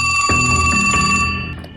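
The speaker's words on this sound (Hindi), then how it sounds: "विदेश मंत्री एस जयशंकर के फोन की घंटी बजी।" A telephone rings in a short burst of bright, repeated bell-like tones, loud and close, with no talking over it.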